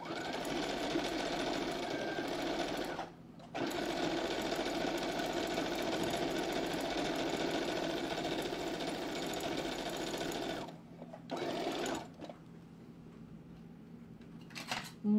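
A sewing machine stitches a seam in a rapid, steady mechanical whir. It runs in a long burst, with a brief pause near the start, then stops and restarts in short bursts near the end, close and moderately quiet.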